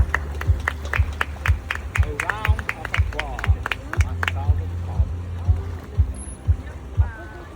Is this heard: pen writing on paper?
no